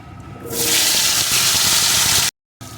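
Gathi kochu (taro) tipped into hot oil with fried spices bursts into a loud, sustained sizzle that roars up suddenly and holds steady, close by.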